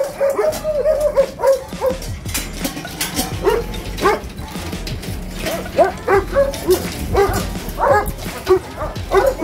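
Several big dogs, including Cane Corsos, barking and yipping in repeated bursts at a kennel, with some whining between barks, fairly close and loud throughout.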